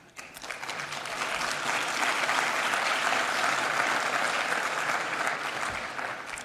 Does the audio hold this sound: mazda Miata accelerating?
no